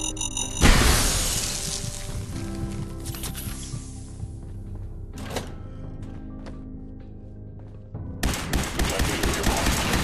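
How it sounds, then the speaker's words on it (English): Gunfire in the Fallout 4 video game: a sharp burst of rapid shots opens, a lone crack follows midway, then another dense crackling volley erupts near the end, loud against a quieter droning backdrop. "We appear to be under fire."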